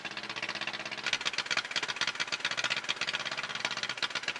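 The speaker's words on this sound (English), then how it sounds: "Now with the big engine turning over, the Pony motor is under a little bit of load" A Caterpillar D8 dozer's pony motor runs under light load while turning over the big main engine, giving a loud, close, rapid knocking putter that stays steady throughout with no voices.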